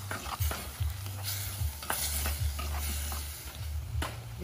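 A pot of water with chili for Vietnamese sour fish soup, canh chua cá lóc, bubbling and hissing steadily up close, with a low rumbling roar and scattered pops and clinks throughout.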